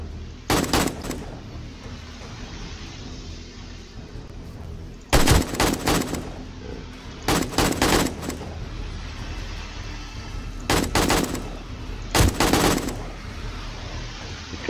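Gunfire in the video game 7 Days to Die during a horde night: separate bursts of rapid shots ring out, a short volley first and then several louder clusters later, over a steady game background with no talk.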